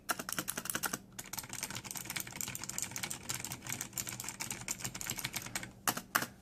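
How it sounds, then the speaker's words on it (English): Rapid clicky typing on a Razer BlackWidow 2014 mechanical keyboard with Kailh green switches, a steady stream of crisp keystrokes close up with a couple of brief pauses, no voices. "you can't have a typing experience review without making a few sounds"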